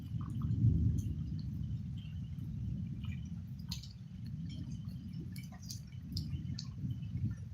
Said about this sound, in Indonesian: Nah, guntur nih.